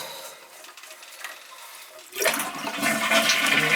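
Water rushes and gurgles loudly in a badly running toilet as the flush valve is taken out, starting abruptly after a stretch of quieter clatter and continuing steadily to the end.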